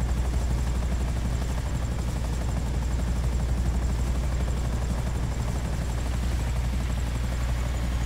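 Helicopter flying in the video game Grand Theft Auto V, a steady, loud rotor thrum and engine drone filling the whole stretch without letup, with no voices.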